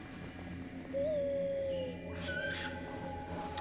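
An owl calls in the video game Far Cry Primal, a few drawn-out hooting and whistling notes over steady game ambience at moderate volume, with no talking.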